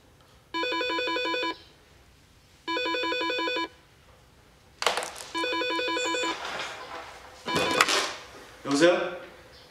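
A telephone rings in repeated electronic trill bursts, three ring cycles with pauses between, near and clear, while people talk and household clatter overlaps the later rings.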